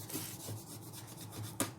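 Pencil shading rubbed over paper in a still-life drawing, a soft dry rasping scratch that repeats in short strokes, close and fairly quiet, with one brief louder scrape near the end.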